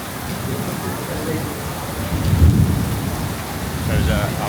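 Heavy rain pours steadily during a thunderstorm in Vietnam, with a low thunder rumble rising midway and a fainter one near the end, under a constant hiss of falling water.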